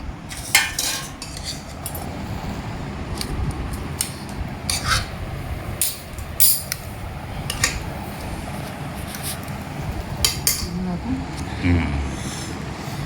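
Utensils clink and scrape against plates and dishes in repeated sharp taps as urad dal, bajra rotlas, chillies and buttermilk are served, while people talk in the background.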